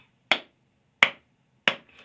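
Three sharp hand claps spaced evenly about three-quarters of a second apart, crisp and close in an otherwise silent room, made to test the latency of Bluetooth speakers.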